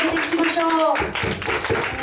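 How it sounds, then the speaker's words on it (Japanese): An audience claps after a worship song at a Japanese Christian youth Christmas praise event, with steady clapping running beneath a voice that speaks over it throughout. "大きな拍手で神様に捧げていきましょう"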